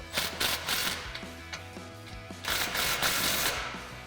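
Exhaust clamp nuts being tightened on a 1986-2004 Ford Mustang cat-back exhaust, giving a close run of rapid metallic clicking and ratcheting in several bursts, with a brief pause in the middle.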